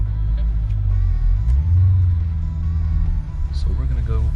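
A Jeep SRT engine idles and rumbles from inside the cabin, a deep steady low drone with slight rises in pitch, while a person talks over it.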